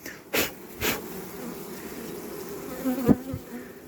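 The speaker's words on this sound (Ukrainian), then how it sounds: "Бджолів вихователю повинно бути більше, як достатньо." Honey bees buzz around an open hive with a nurse-bee colony, giving a low, steady drone. Several louder bursts come from bees passing close by, and there is a soft sniff or rustle near the end.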